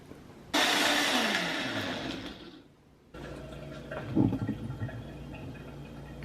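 A blender on its ultra blend setting whirs loudly through a smoothie with ice, a strong grinding roar that slowly fades before the motor cuts out, followed by quieter rattling and handling noises.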